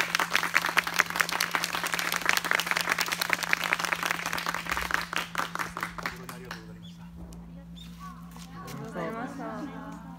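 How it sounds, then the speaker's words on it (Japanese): Audience at the Taishō-ji temple ruins in Kumamoto applauds Professor Kobori of the Higonokami Hakusuikai, a dense, loud burst of clapping that fades after about six seconds into quieter murmuring and talk. "小堀先生に皆様盛大な拍手をお願いいたします"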